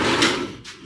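A storage drawer in a camper van slides shut with a short rolling swish followed by a soft thud as it closes.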